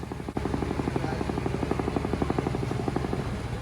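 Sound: motorcycle engine sounding like helicopter

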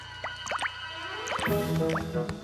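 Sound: water dripping from stone formations in a cave, cartoon

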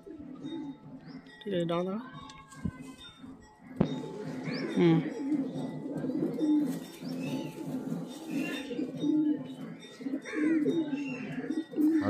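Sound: male pigeon cooing

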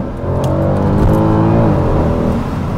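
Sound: Mercedes C63 AMG 6.2 litre naturally aspirated engine revving

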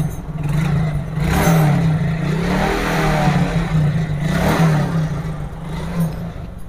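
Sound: Hero Glamour FI motorcycle engine running after start

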